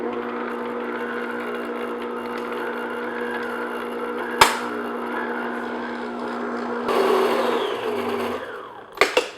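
Electric mixer beating frosting at medium-high speed, a steady close whirring hum with a brief sharp clack midway and louder scraping bursts near the end.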